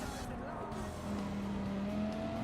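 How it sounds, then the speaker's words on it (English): A race car in a racing video game at Daytona brakes hard into turn one, its engine note dropping and tires whining under a steady roar of the field, with a commentator's voice over it. "here we go, hard on the brakes."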